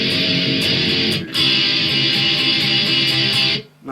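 Electric guitar strumming a chord pattern, a continuous bright up-and-down rhythm with one short gap, close and alone, stopping abruptly near the end.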